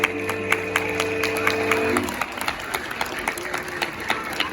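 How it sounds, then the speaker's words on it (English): A school holiday concert audience slaps their knees in a steady rhythmic beat, a dense patter of many hands from a crowd, while sustained music tones fade out midway. "Let's all slap along. Slap your knees."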